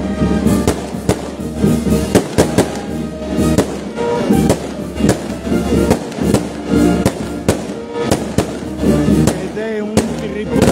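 Repeated sharp musket shots crack out in an irregular salute volley, loud and close, over a festive background of band music playing the papal anthem and crowd noise at a religious procession.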